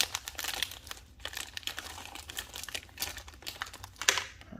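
Plastic wrapping around a pack of dice from a Pokémon trading card battle deck crinkles and crackles continuously up close, with a sharper tearing rip near the end.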